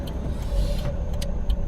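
A 1991 Honda Beat, a micro mid-engine car, drifting: a steady, close engine drone with a rising and falling tone and light tire noise, with no talk.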